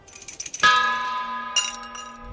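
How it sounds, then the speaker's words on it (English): A bell is struck once in The House of Da Vinci, a sharp metallic clang whose bright ringing tone hangs and decays, followed by a second lighter strike about a second later, loud and close. "Ring bell."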